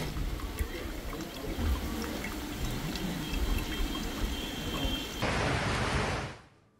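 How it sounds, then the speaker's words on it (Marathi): Pre-monsoon rain falls steadily under cloudy skies as a broad, even wash of hiss and patter, with no talking, before it fades out at the end. "मान्सूनपूर्व पाऊस पडतोय"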